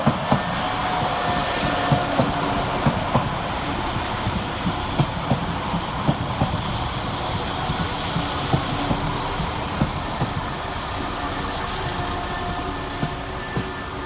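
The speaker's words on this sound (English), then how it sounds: "And here comes our train in the form of" A West Midlands Railway Class 172 diesel unit arriving at Cradley Heath station, a steady broad rumble with rhythmic wheel clicks over rail joints throughout, no voices.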